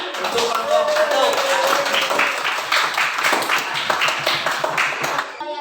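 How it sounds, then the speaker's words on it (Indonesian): A classroom of students claps for a student group after a presentation, with moderately loud scattered clapping and a voice talking over the claps. "tepuk tangan untuk kelompok 1."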